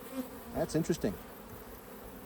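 Honey bees hum and buzz at an open hive where they are drawing out fresh wax comb, a faint steady drone beneath a brief spoken remark.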